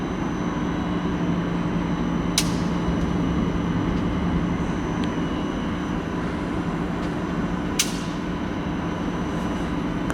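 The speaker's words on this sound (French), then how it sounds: "je prends mon moteur universel et je le raccorde électriquement par le biais d'un câble sur une prise et j'envoie le jus pour repérer le sens de rotation de l'arbre" A universal motor from a ducted fan coil unit spins steadily after being powered up on a test cable, giving a continuous loud hum and whir, with two brief sharp clicks and no talking.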